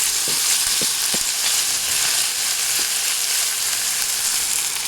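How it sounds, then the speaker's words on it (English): Small pork pieces browning in a hot pan with a steady, loud sizzle, broken by a few soft knocks of stirring near the start. "So let's give this a little bit of a stir as it browns."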